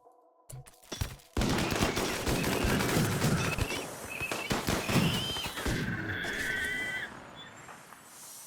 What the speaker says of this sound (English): So I'm going to set this over to high explosive and try to shell these turrets.